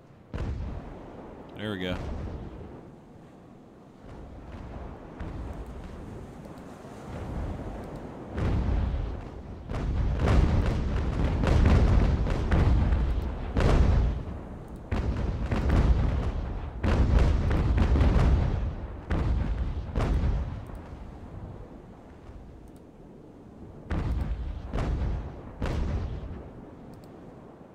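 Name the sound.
naval cannon fire in the video game Ultimate Admiral: Age of Sail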